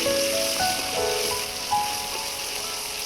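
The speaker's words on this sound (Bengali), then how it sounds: "কড়াতে দিয়ে দিচ্ছে সরিষার তেল ফোড়নে দিয়ে দিল একটা শুকনো লঙ্কা কালা জিরে তারপর দিয়ে দিল পেঁয়াজ কুচি" Dried red chilli, nigella seeds and chopped onion frying in mustard oil in a kadai, a continuous hissing sizzle heard under steady background music.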